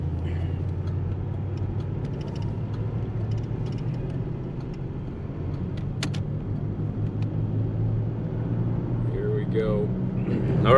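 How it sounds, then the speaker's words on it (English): A 1986 Cadillac funeral parlor car with a dead right front wheel bearing drives along, giving a steady low hum and road rumble throughout, with a brief voice near the end. "the right front wheel's got a dead wheel bearing. That's what the humming sound is."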